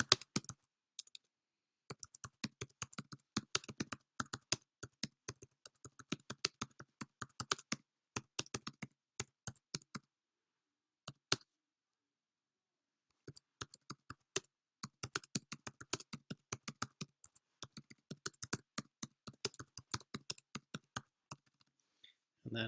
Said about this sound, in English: then I can start typing in my text